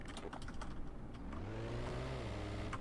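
A video-game ACF engine paired with a gearbox spins up, its steady mechanical drone rising in pitch and holding strong after a burst of quick clicking taps.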